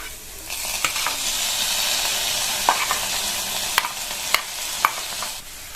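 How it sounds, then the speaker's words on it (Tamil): Steamed cabbage and onions sizzle steadily in a pan, with a few sharp clicks of a spoon stirring against the metal. "முட்டைக்கோஸை சேர்த்துட்டு நல்லா இந்த மாதிரி கலந்து கொடுத்துருங்க."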